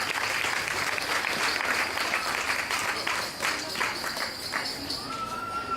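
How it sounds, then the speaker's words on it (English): A crowd at an outdoor birth rally in Sydney applauds a singer, sustained clapping throughout, moderately loud and fairly even, fading slightly toward the end. "Round of applause for Francesca"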